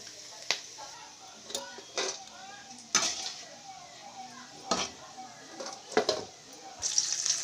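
Bitter gourd is stirred as it fries in a pan, with sharp intermittent scrapes and clicks of a utensil over a faint, soft sizzle.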